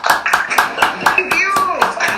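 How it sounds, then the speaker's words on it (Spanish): Audience applause for a speaker named Charlotte at a Spanish-language talk, a few loud claps repeated in a steady, uneven rhythm with a brief whistle-like tone sliding through the middle. "ahora abrimos los micrófonos para un aplauso cerrado a nuestra amiga"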